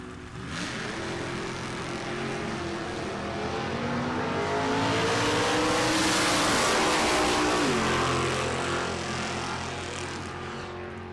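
Drag race cars launching, a 1963 Nova SS and a 1965 Mustang: loud, close engines roaring and revving as they accelerate hard, the sound swelling to a peak and then easing as they pull away.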